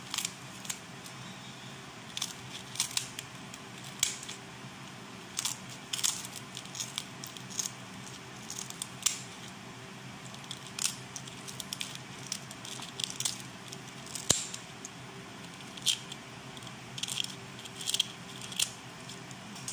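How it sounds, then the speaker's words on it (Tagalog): Crunchy fried pork belly liempo cut up close, with repeated crisp, crackling crunches and knife scrapes in an uneven rhythm over a faint kitchen background. "Sa sobrang crunchy, masisira na yung aking liempo."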